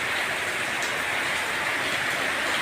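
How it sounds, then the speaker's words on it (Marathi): Heavy nighttime rain pouring down outside a home during a power cut, a dense, steady roaring hiss that fills the whole clip with no breaks and no voices. "एवढा पाऊस असा चालूच आहे"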